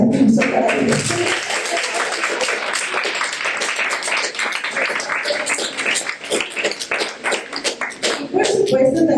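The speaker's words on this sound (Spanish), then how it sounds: "les pido un fuerte aplauso para ellos" Audience claps at a book presentation, a crisp round of many hands that swells after a brief voice at the start, holds steady, then thins out as talk resumes near the end.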